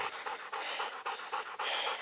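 A German shorthaired pointer pants rapidly and steadily after running in the summer heat, a close, rhythmic breathing heard alone.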